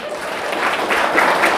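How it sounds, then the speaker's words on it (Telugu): A satsang audience in Tirupati claps loudly together, a dense, continuous burst of applause from a crowd that swells slightly over its short length. "ఇప్పుడు ఇక్కడ ఉన్న వాళ్ళందరూ ఒకసారి గట్టిగా చప్పట్లు కొట్టండి."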